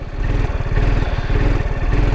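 A Peugeot XP400 GT scooter engine runs steadily with a loud, close, throbbing low rumble and a fast regular pulse, holding on with no throttle change and no talk over it.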